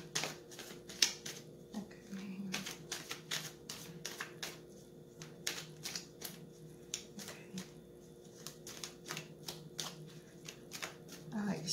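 Repeated crisp riffling and snapping of cards, irregular bursts of shuffling close up, with faint speech underneath.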